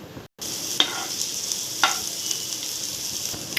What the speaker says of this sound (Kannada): ಈರುಳ್ಳಿ ಹಾಕೊಂಡ್ಬಿಟ್ಟು ಫುಲ್ ಗೋಲ್ಡನ್ ಬ್ರೌನ್ ಆಗೋ ತನಕ ಫ್ರೈ ಮಾಡಿ